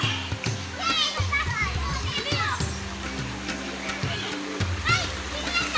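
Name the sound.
people and children bathing and splashing in river water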